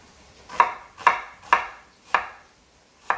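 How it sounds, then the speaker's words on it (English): Knife chopping an onion on a cutting board while preparing Jamaican lentil soup: five crisp, evenly spaced chops, close and distinct, with near silence between them. "You can cut your onion anyway"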